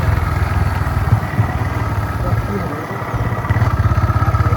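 A motorbike ridden slowly at around 20 km/h on a trip home with a newborn, its engine a steady low drone with a pulsing throb throughout, fairly close and loud, with no clear speech over it.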